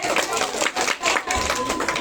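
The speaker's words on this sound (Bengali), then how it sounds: "হাততালি।" A group clapping at a madrasa ball-throwing contest, a dense ongoing patter of many hands with a few rhythmic swells, loud and close.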